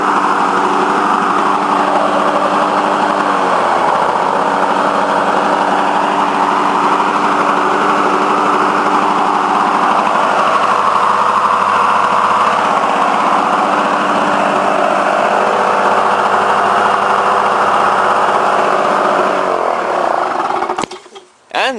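A Lawnboy F-Series lawnmower engine runs steadily and loudly after a muffler repair, a continuous buzzing drone that holds for about twenty seconds before cutting off abruptly at the end.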